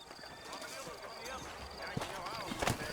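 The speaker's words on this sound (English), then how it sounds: "You ain't gonna find sturdier horses than these in all of New Orleans." Horse hooves clip-clop at a steady walking pace in the Red Dead Redemption video game, set in New Orleans, with a horse snort or whinny and a voice talking over them.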